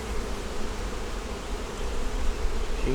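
Dense buzzing of many honeybees crowding a hive frame, a steady close drone with no pauses and no voices over it.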